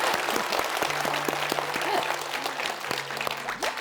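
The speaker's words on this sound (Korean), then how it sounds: "예, 박수." Studio audience applause at a talk show, a dense patter of clapping that holds steady for a few seconds before thinning slightly toward the end.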